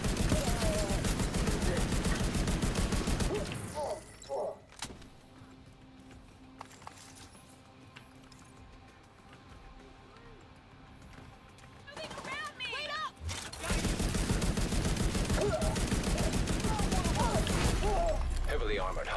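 Enemy gunfire striking a shield in a shooter video game: dense, loud rattling volleys at the start and again near the end, with a quieter stretch of scattered impacts and game noise between them.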